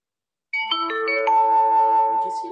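A phone ringtone chimes in a video game during a Grand Theft Auto–style car selection, a bright melodic tone starting abruptly and sustaining loud and clear, alone without talk.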